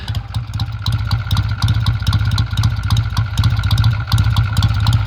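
A 1966 Triumph T120R motorcycle engine idling shortly after a cold start, a loud, close, lumpy and rhythmic twin-cylinder beat with mechanical clatter, running steadily on its own.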